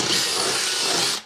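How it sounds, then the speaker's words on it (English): A power drill bores a hole in a truck door panel while installing a tow mirror on a Chevrolet Silverado or GMC Sierra, making a loud, steady, close whir that stops abruptly. "That's where you need to drill your fourth hole."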